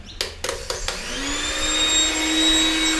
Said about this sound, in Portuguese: vou pegar a batedeira. Quatro gemas. Primeiro começa a bater.